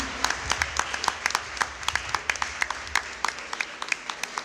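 A church congregation claps in praise of the Lord, with sharp individual claps standing out over a continuous crowd patter that keeps up an irregular but lively rhythm throughout.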